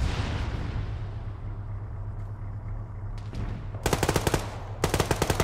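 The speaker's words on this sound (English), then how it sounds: "We have shots to the west, like far west." Gunfire in ArmA 3 sounds from far to the west: a low rumbling backdrop, then two sharp rapid bursts of automatic fire near the end.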